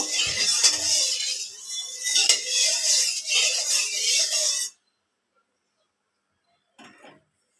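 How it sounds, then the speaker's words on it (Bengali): Oil being stirred around a pan before fish goes in, a sustained scraping and sizzling hiss with a few metallic clinks that stops abruptly, leaving near silence and one brief later scrape. "চারিপাশ দিয়ে তেলটা একটু নেড়ে নিব"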